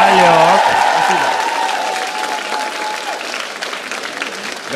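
An audience at a stand-up comedy show bursts into dense, loud applause that slowly thins and fades over a few seconds, with a voice heard faintly through the clapping.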